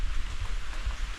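Light drizzle with wind outdoors, a soft steady patter and low rumbling gusts, brief and continuous.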